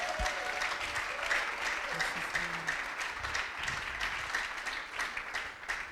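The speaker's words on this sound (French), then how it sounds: "Can you clap for yourself?" A church congregation claps steadily for several seconds, a dense and continuous wash of applause filling the hall with no break.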